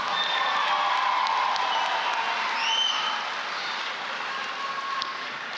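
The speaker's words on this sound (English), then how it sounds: "Can we give Sunshine community a round of applause?" Graduation ceremony audience applauding in an auditorium, steady sustained clapping from a large crowd with scattered whoops and cheers, loud throughout.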